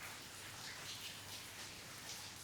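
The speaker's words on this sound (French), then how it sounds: "c'est la pluie qui tombe" Steady, dense rainfall pours down in an even wash of soft hiss that never pauses, heard alone without any voices.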